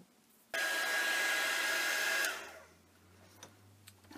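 A hair dryer blows over a page of Art Alternatives black gesso, switching on abruptly with a loud steady whoosh and a faint whine for under two seconds before winding down into quiet room noise.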